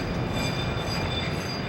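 A freight train at the Ford Rouge plant, where new Mustangs are loaded, gives a steady rumble with high wheel squeal, continuous and fairly loud, with no voices.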